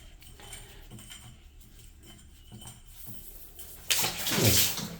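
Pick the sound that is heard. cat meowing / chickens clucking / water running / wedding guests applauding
water running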